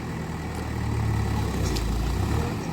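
A tractor engine drones low and steady while stuck in a muddy field, swelling slightly in the middle and close by, with no talking.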